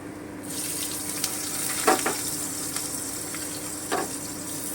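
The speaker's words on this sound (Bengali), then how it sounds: "এবারে আমি কুচুনো পেঁয়াজটা দিয়ে দিচ্ছি" Chopped onions fry with a steady close sizzle in a pan, part of a mutton kosha being cooked over low heat after garlic, with two brief louder crackles or stirs breaking the continuous hiss.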